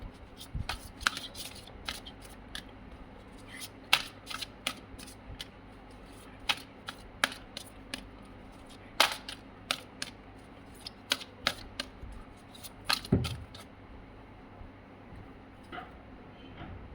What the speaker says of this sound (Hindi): बहुत सारे कार्ड गिर गए, इसके बाद मैं और कार्ड नहीं ले सकती